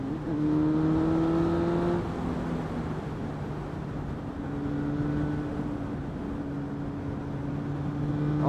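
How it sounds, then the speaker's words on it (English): Road traffic with cars passing by, a steady engine and tyre rumble with a couple of drawn-out tonal engine notes, fairly close and continuous, no talking. "A lot of traffic at this time."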